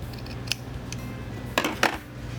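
Scissors snip straight across fabric in a few quiet, close cuts. One light click comes early and two sharper snips land near the end, with no talking.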